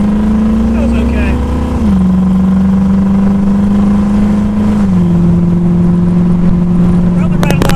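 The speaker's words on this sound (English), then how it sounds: "Alright, so we'll get up on the freeway here and take it on home." A 1972 Datsun 580Z Spyder cruises on a freeway, its engine droning steadily with a slight drop in pitch as it shifts or eases off, loud and continuous throughout.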